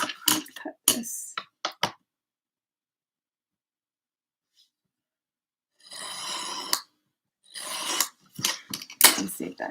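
Scissors cutting paper strips for a handmade sticker book, a quick run of crisp snips up close, then a longer rasping cut and more snips, with a brief spoken bit between.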